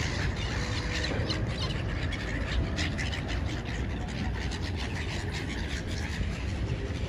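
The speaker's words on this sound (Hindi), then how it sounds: "वो दाने डाल के गई है कबूतरों को, और कबूतर देखे कैसे आ गए हैं यहाँ पे।" A flock of pigeons gathers to feed on scattered grain, with steady dense fluttering and cooing amid a constant outdoor wash of noise and occasional brief squawks.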